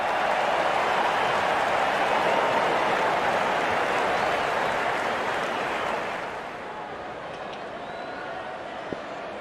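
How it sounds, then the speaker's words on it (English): Crowd applause and cheering in the Real Cricket 24 video game after a batter's fifty, a dense, steady roar that fades slightly toward the end, with a commentator talking over it. "Wonderful 50, and the crowd applauds."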